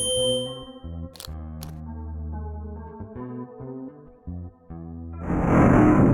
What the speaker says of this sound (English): The opening mechanism seems to have activated with the sound of the instrument.